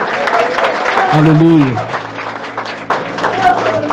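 A church congregation applauds during a worship service, with a moderate patter of clapping running beneath a voice that exclaims loudly over it.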